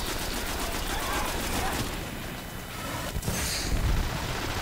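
Enemy grenade launcher fire and explosive bursts in a Destiny firefight thump and crackle repeatedly at close range, mixed with ongoing talk from players.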